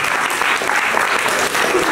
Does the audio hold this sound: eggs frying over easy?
no